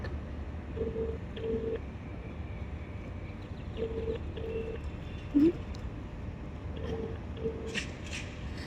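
A phone call's ringback tone repeats as paired rings separated by pauses over a steady background hiss while the caller waits for a father to pick up.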